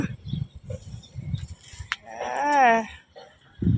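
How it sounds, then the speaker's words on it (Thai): Cow mooing once, a drawn-out close call from a thin mother cow with a nursing calf, following soft shuffling noises and someone speaking. "ดูสิฮะแม่วัว"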